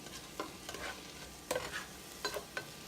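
Food sautés in a pan over medium heat, with a soft continuous sizzle broken by several quick scraping stirs, close by, and no voices.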